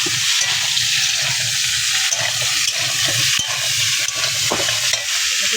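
Vegetables fry in a wok for khichuri while being stirred, a steady close sizzle with scraping spatula strokes throughout, no talking.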